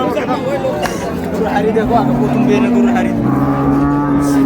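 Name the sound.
cows and calves at a cattle market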